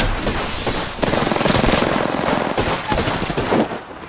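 Sustained rapid automatic gunfire in a ranked team shooter match, loud and close, with a busy, rattling barrage that runs for the whole stretch and no talking.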